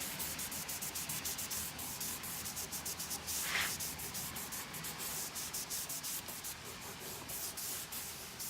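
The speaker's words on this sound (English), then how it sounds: "And then let's take a clean portion and rub off the excess." A cloth rubs excess stain off oak wine barrel staves being reconditioned, making a steady, close, rhythmic scrubbing hiss of repeated back-and-forth strokes, fairly faint and with no talking.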